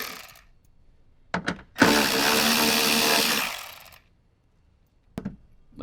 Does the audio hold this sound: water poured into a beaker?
no